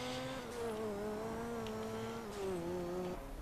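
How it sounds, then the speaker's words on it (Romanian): Car engine revving in GTA San Andreas multiplayer, a Saddler pickup that sounds like a race car, a steady droning motor whose pitch holds and shifts slightly as it changes gear, loud and continuous with no talk. "se aude mașina asta, zici că e mașina de curse, nu Saddler"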